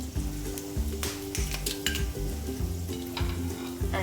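Red chillies sizzle steadily in hot mustard oil, a close, continuous fizz with a few scraping stirs and light clinks from the pan over a low hum.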